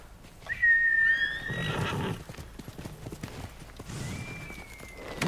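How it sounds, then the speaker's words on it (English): A horse in the video game Ghost of Tsushima Director's Cut whinnies in a shrill, wavering call, then hooves clop over ground, followed by a second, thinner whinny near the end. "Okay, let's call my horse."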